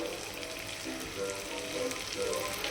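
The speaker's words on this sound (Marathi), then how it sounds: "कारल्याला जरा फ्राय करताना तुम्हाला दाखवूया थोडंसं" Bitter gourd (karela) frying in a pan gives a steady, close, dense sizzle and crackle throughout with no talk.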